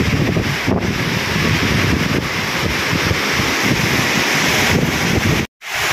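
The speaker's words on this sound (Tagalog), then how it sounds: "Malakas pa rin ang hangin." Strong typhoon wind during Typhoon Uwan in Albay, Philippines, a loud continuous roar buffeting the microphone for several seconds, with a brief dropout near the end.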